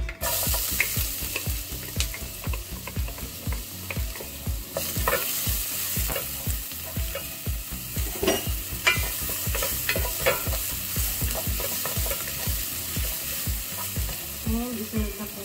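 Garlic frying in olive oil in a pan as the base for ginataang kalabasa with pork, a steady close sizzle broken by frequent clinks and scrapes of a spoon stirring throughout.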